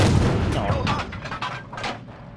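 In a tank video game, a gun shot bounces off the armor of a tier 6 medium tank, heard as several heavy booming impacts with someone talking over them.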